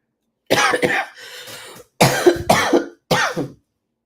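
Several deep, raspy coughs in short bursts, close and fairly loud, with brief pauses between them and no talking.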